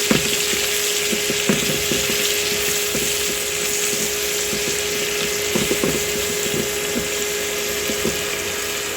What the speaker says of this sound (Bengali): পেঁয়াজগুলো একটু মিশাবো।